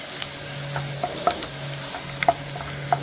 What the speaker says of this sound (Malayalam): അഞ്ചാറ് പച്ചമുളകുണ്ട് ഇതൊന്ന് വറുത്ത് കോരിയെടുക്കാം